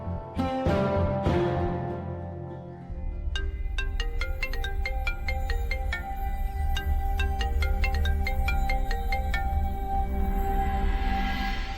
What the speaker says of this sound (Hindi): तब तक मैं विक्रम जी को फोन कर देता हूँ